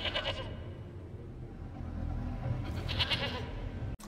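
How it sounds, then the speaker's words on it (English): A goat bleats in a scene from House of the Dragon, a wavering cry early on and another bleat later, over a low rumbling background. "Is there a goat in the bedroom?"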